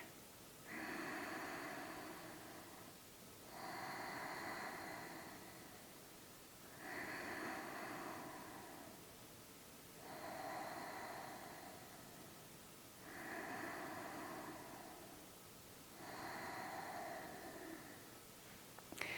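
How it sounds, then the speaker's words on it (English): Slow, steady breathing during a prenatal yoga session: six long, even breath cycles, each a soft airy swell about three seconds long with short pauses between, close and quiet with no talking. "Take a few breaths here."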